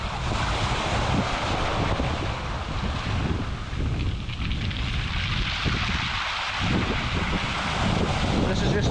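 Waves wash in and out over pebbles and rocks in a secluded cove on the wild North Sea coast of Scotland, a continuous loud roaring surge mixed with heavy wind buffeting the microphone.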